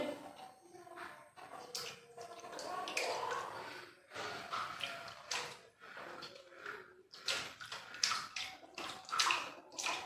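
Water splashing and sloshing in irregular bursts in an unfinished part of a house, with a child's breathy sounds and vocalizations mixed in, fairly close.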